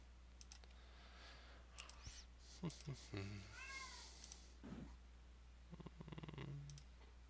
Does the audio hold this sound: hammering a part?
no